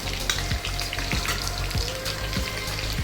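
Tomatoes fry in a hot pan for mutton karahi, a loud, continuous sizzle up close with a few soft stirring scrapes in regular rhythm.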